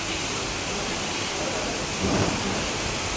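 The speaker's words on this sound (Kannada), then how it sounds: "ತುಂಬ ಮಳೆ ಬರ್ತಿದೆ" Steady heavy, wind-driven rain in Udupi roars with a constant broadband hiss, swelling briefly louder near the end; no voices are heard.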